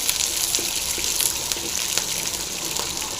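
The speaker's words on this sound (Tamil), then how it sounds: "இது வந்து நல்லா ஃப்ரை ஆகிடுங்க." Green chillies and garlic frying in hot oil for a three-greens chutney, a steady close sizzle and crackle running through the whole stretch with no talk.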